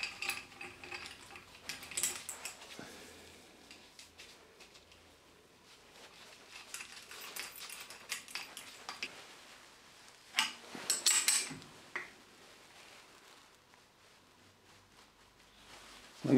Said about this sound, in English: I'm now going to bolt all this together. So I'm going to use a M6 roofing bolt.